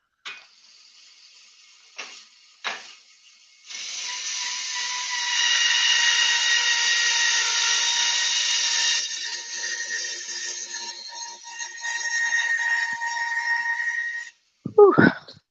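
A bandsaw cuts a small 20 mm piece of material, a steady loud whining rasp lasting about ten seconds after a few short knocks, then dropping back as the cut finishes, followed by a brief close exclamation.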